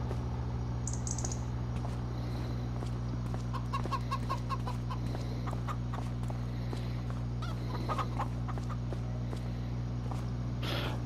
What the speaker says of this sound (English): I got some roosters in here somewhere.